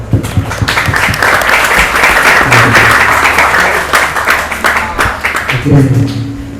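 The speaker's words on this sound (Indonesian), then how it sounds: "Ahsan, beri tepuk tangan." Audience applause fills a school hall during an open Kitab Kuning reading exam for class X santri, a loud, dense, sustained clapping that stays steady for several seconds before thinning slightly, with a brief voice at the end.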